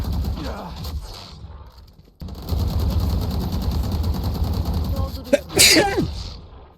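A single sharp, loud sneeze bursts out near the end over Valorant gameplay sounds, which include steady gunfire and rumble, and there is brief talk early on.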